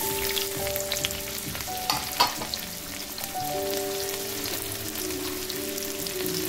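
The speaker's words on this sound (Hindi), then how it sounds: "तो चलिए इसका हम तड़का लगा देते हैं।" Onion and garlic sizzle and crackle steadily in oil over low heat for dal tadka, with occasional clinks of a utensil stirring; close and fairly quiet, no talking.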